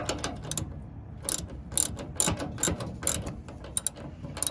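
A ratcheting wrench tightens the nuts on Overland Custom Design sway bar end links, giving close, irregular bursts of sharp metallic clicks separated by short pauses.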